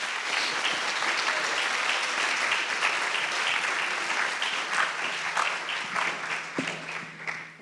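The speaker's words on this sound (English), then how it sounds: "Let's give them another warm round of applause." Audience applause at a Founders' Day convocation, a full hall of steady clapping that holds strong for several seconds, then thins into scattered claps as it fades out.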